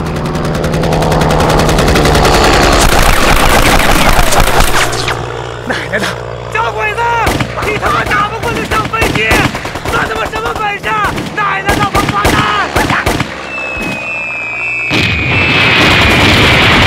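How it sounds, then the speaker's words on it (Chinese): Wartime battle din of gunfire and artillery, loud booming blasts and rapid cracking shots, with voices shouting over the chaotic barrage. "这什么声音？ 枪炮声呗。"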